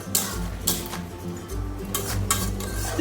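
A pot of banana flower curry made with Gobindobhog rice being stirred, with repeated scraping and clinking strokes of a spoon against the pot, close and fairly loud, with no talking.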